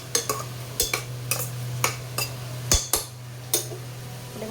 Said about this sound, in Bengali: পেঁয়াজ, টমেটো, আদা, রসুন পেস্ট আর গোটা গরম মশলা ফোড়ন দিয়ে